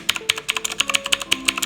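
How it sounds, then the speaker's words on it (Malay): Rapid clicky keystrokes on a Machenike K7 mechanical gaming keyboard with tactile switches, a quick irregular run of sharp taps close up and alone. "Dia ada rasa sesuatu bila kita menekan keyboard tu."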